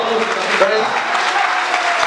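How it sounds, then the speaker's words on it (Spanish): A crowd applauds at an association's 26th anniversary party with a Santa Claus visit, producing a brief, steady burst of clapping mixed with cheering voices and chatter. "Fuerte el aplauso"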